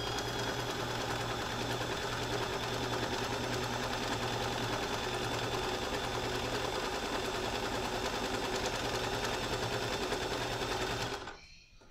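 Sewing machine stitching elastic onto a fitted sheet, running at a constant fast whirring chatter, close and loud, then stopping abruptly just before the end.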